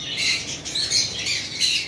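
Green Fischer's lovebirds at a bird shop squawk and chatter in harsh, shrill bursts, loud and close, with several overlapping calls throughout.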